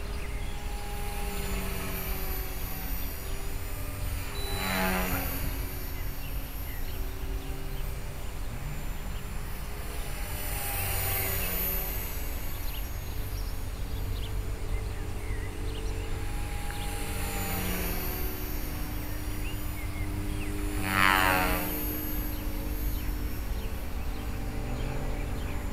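An HK-450 flybarless RC helicopter powered by a Turnigy Typhoon 2218 motor flies at a distance, its steady whine and rotor hum rising and falling as it passes in several sweeps against a continuous outdoor background.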